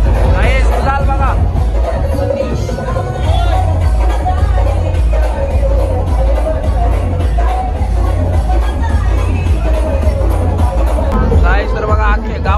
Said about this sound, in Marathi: तर बघा, अख्खे गावामध्ये जल्लोष चाललेला आहे